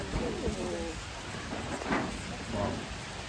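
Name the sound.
rain falling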